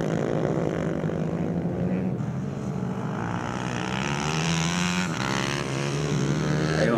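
Racing motorcycles in a Vale Todo class final mixing 4-stroke and 2-stroke bikes at Concepción, their engines a loud, continuous blended drone from the pack, rising and falling without pause.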